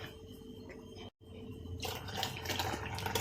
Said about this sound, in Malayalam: ഈ ജാറൊന്ന് കഴുകി ആ വെള്ളം കൂടി ഇതിനകത്തേക്ക് ഒഴിച്ചാൽ